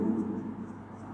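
A pen scratching along paper as accounting entries are written by hand during a lesson, a soft continuous scribble at close range under low room noise.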